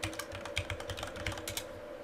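Rapid, close keystrokes on a computer keyboard as commands are entered into a terminal, an irregular run of crisp clicks with no voices.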